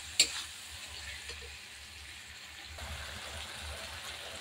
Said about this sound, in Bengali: এটাকে ভালো করে, যেহেতু শুকনো লঙ্কা তো, তাই জন্য ভালো করে এটাকে কষিয়ে নিতে হবে